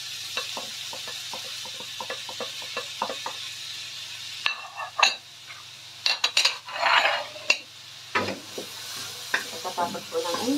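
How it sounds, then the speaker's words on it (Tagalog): Onion sautés in oil in a pan for a seafood pasta white cream sauce, a soft steady sizzle broken by utensil clicks and louder scraping stirs in the second half. "Patatapag po ng onion. Kailangan maging translucent pa muna siya."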